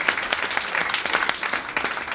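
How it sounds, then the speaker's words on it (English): An audience at a Rotary evening applauds Roy and Isabel Gear, a couple aged 93, with brisk, close, steady clapping that fills the whole short stretch. "massive round of applause"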